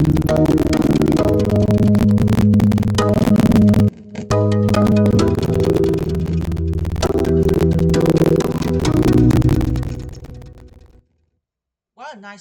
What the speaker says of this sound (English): a beautiful guitar, like a Mexican guitar